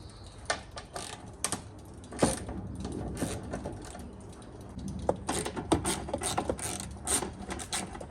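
Bolts are worked loose on a Toyota KE30 two-door car with a ratcheting tool, giving clusters of quick metallic clicks and clanks at close range, quiet, with no talking.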